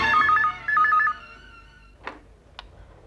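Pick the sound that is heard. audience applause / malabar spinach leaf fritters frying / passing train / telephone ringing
telephone ringing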